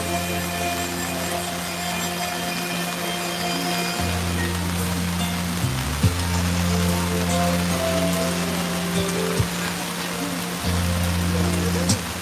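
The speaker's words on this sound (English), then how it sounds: "It's raining so hard you can't hear the music anyway." Heavy rain falling steadily at an outdoor gathering outside a jail in Washington DC, a dense constant hiss over a low droning hum, with faint music and voices buried beneath it.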